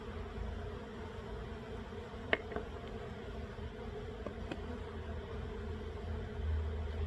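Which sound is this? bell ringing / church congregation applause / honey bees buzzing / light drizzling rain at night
honey bees buzzing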